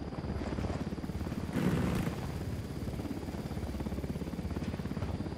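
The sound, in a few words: helicopter in the video game Ghost Recon Wildlands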